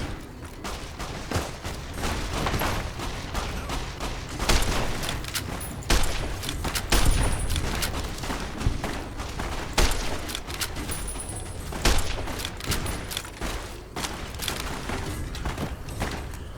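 Rapid gunfire in Fallout New Vegas, a dense fusillade of loud cracks and booms with several sharper standalone shots, continuous combat clatter throughout.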